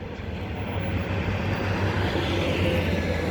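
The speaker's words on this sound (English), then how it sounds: "Oh my gosh, this train's really fast." A fast train rushes past a station platform with a loud, steady roar close by, heard alone for the whole moment.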